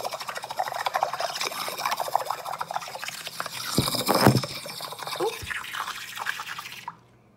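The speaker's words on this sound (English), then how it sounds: "Put it down in there and create lots of bubbles" A pen pushed into a pan of soapy water bubbles steadily, with a dense burbling trickle that swells in the middle and then stops abruptly; a voice talks quietly over it.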